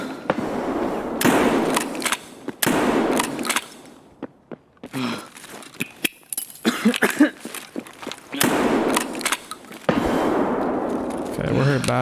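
A grenade going off in the video game Escape From Tarkov, one sharp burst among scattered gunfire pops and in-game movement, with a player talking over the action throughout.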